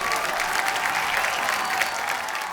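A studio audience at a comedy talk show breaks into loud, steady applause, a dense wash of clapping that holds at full strength throughout, with no one speaking over it.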